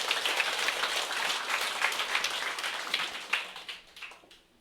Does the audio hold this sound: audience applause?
yes